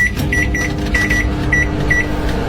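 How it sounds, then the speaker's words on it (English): A microwave oven runs with snow inside, its steady low hum filling the clip, with a repeated short beep-like tone sounding several times over the drone and no talking. "Let's put it in the microwave and let's see what it does."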